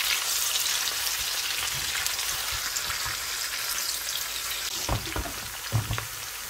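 Spices fry in hot oil while a home-style beef curry is prepared, giving a steady close crackling sizzle with a few sharper pops toward the end and no talking.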